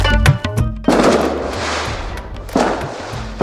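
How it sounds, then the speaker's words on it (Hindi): Big firecrackers go off at night, a quick crackling cluster at the start followed by two sharp, loud booms that each leave a rumbling hiss, with no voices. "और रात में किशन माँ लक्ष्मी से दिए हुए बड़े बड़े पटाखे जलाता है"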